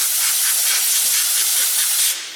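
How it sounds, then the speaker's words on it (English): Compressed air blasts steadily onto a dehydrated persimmon bowl to clear off dust, a loud continuous airy hiss lasting about two seconds before cutting off. "Let me get some dust blown off this"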